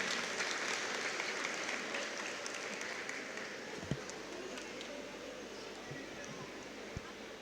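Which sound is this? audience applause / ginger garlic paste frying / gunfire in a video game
audience applause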